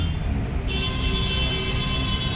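A road outside a shop carries a continuous steady drone with a sustained high tonal note like a vehicle horn sounding, traffic rumbling underneath throughout.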